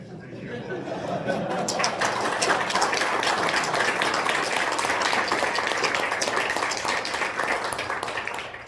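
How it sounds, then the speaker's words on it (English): An audience at a conference talk on stick diagram validation gives a round of applause, sparse at first, then swelling into dense, steady clapping from many hands, with faint chatter mixed underneath. "In addition to that round of applause,"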